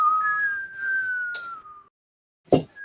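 A human voice imitates the whistle of a falling shell during a tabletop fantasy role-playing session: a long, slowly descending whistled tone, then a short breathy burst and a brief rising whistle, with no other talk.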